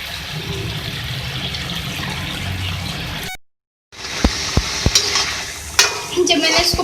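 Mutton karahi masala with crushed red chillies fries in a pan, a loud close sizzle that cuts out briefly, then returns with sharp spoon scrapes and clinks as it is mixed.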